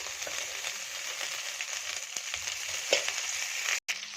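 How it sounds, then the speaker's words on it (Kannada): Okra (bhindi) fries in oil in a pan for a dhaba-style bhindi masala, with a continuous close sizzle, occasional stirring scrapes, and a brief dropout near the end; no one speaks. "ಈಗ ಸ್ವಲ್ಪ ಎಣ್ಣೆನ ಕೂಡ ಸೇರಿಸ್ಕೊಂಡು ಚೆನ್ನಾಗಿ ಹುರ್ಕೊಂತೀನಿ."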